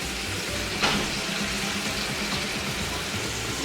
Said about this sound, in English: pour the peanut butter sauce here.